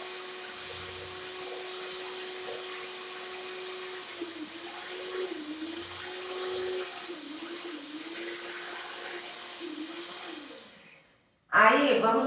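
An electric mixer whirs steadily and loudly while beating strawberry and grape mousse, its pitch wavering slightly as the beaters work through the mixture, before the motor cuts off near the end and a brief clatter follows.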